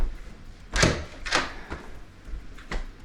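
An inward-swinging apartment door is pushed open over new flooring, giving a few soft, close thuds and scuffs spaced over about three seconds, with no talk.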